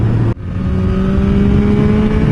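A Honda CB650R inline-four 650 engine pulls hard under acceleration, a loud, close, steady droning whine that dips for a split second early on, like a gear change, then climbs smoothly again.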